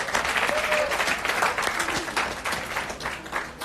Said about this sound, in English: can we have a huge round of applause for Anand